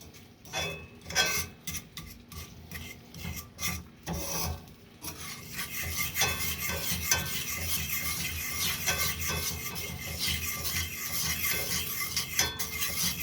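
Spoon or spatula scraping through melted butter and brown sugar caramel in a pan for pineapple upside-down cake, a rasping, irregular stirring that starts in separate strokes and becomes continuous and steady.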